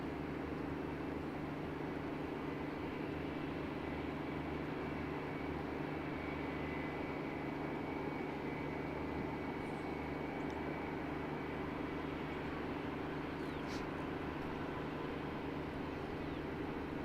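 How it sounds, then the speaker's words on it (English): A passenger airliner taxiing at Christchurch Airport in thick fog, a steady distant engine drone holding at an even level throughout with no variation. "So NZ534 is taxiing."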